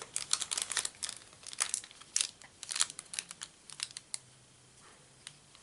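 A paper bag being folded and creased by hand, with quiet crinkles and crisp rustling bursts in short uneven runs, close up and alone.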